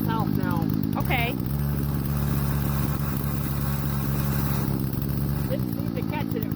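Husqvarna 120 38cc chainsaw with a 14-inch bar running steadily, a close, constant buzzing engine drone at a held pitch, with people talking over it.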